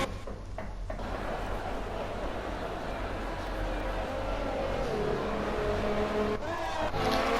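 Formula One cars in F1 2020 race at the French Grand Prix, heard as a steady high-revving engine drone with whining tones that rise as cars pass and overtake, a continuous mid-level roar throughout.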